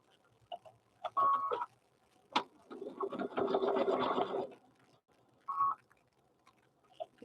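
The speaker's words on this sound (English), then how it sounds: "We're going to start stitching right there." Home sewing machine stitching the fabric of a handmade teddy bear, running in a sustained burst of rapid stitching between shorter runs and pauses, close and fairly quiet, with no talking.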